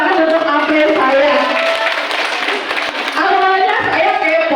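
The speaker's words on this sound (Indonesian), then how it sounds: "Tepuk tangan untuk April saya." An audience claps at an Indonesian motivational event, steady clapping that runs throughout and overlaps with a voice.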